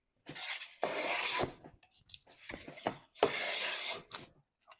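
A Stanley No. 37 jack plane shaves wood in a workshop. Several long, rasping strokes sound close and loud, separated by short pauses and a few quick scraping passes.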